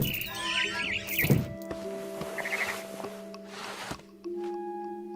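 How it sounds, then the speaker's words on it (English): A barn swallow chirps in the video game What Remains of Edith Finch: a few quick, fairly quiet tweets near the start, set against soft ambient game tones and small thuds. "It was a barn swallow going back to her nest."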